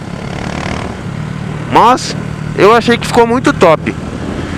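A Honda Fan 150 motorcycle fitted with a Gemoto Racing exhaust and 4mm kit, revved in short bursts at a bare, echoing spot, a few rising roars over a low idle, with someone talking before and between them.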